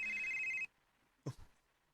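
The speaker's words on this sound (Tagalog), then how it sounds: "Oh, kung cellphone si Tito man ni" A cellphone rings with a short electronic tone that cuts off after about half a second, followed by quiet and a couple of faint handling bumps.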